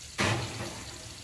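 Water runs from a kitchen tap after meatballs go into the oven, a steady broadband rush that starts abruptly and continues at moderate level to the end, with no voices.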